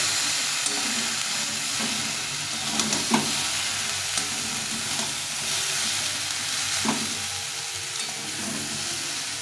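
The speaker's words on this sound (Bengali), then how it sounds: "সবজিটা ভেজে নিলাম আগে, সবগুলো একসঙ্গে করে ভেজে নিলাম।" Mixed vegetables (potato, eggplant, green papaya, green banana, bitter gourd and drumstick) fry in a little oil with a steady, dense sizzle, broken by occasional soft scrapes and knocks of stirring in the pan.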